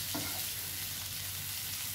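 Ivy gourd (kundru) vegetable fry being stirred in a pan, giving a steady, close hiss of frying with a brief scrape of the spoon near the start and a low hum underneath, with no talking.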